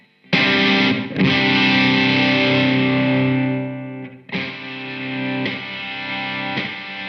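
Loud, heavily distorted electric guitar chords through a Korg Nu:Tekt effect pedal ring out and sag as they sustain, then fresh chords are struck and held.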